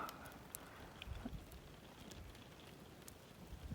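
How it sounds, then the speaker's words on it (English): Faint steady patter of rain with soft gusty wind noise outside, occasional light drips and knocks, quiet overall. "Well, it's raining and it's windy."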